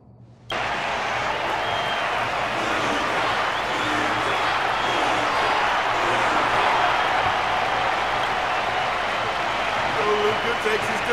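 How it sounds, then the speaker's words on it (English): Steady roaring crowd applause and cheering in the arena of Honkai Star Rail after a duel, a dense continuous wash of clapping that begins abruptly and holds level, with a voice narrating over it. "Their constant applause is a salute to this resilient Belobogian fighter"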